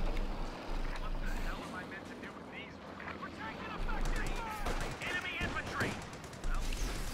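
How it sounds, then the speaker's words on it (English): Gunfire rings out in a Company of Heroes 2 real-time battle as a sniper picks off a mortar crew, sharp shots and scattered reports amid rumbling combat ambience and low background voices. "Sniper sniping the mortar crew"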